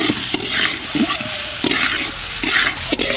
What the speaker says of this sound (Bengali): জল ঝরিয়ে নিয়েছি চালটা, এবার চালটা দিয়ে দেবো।